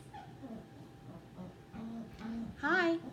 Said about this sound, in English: puppies are in the background if you're wondering what all the noise is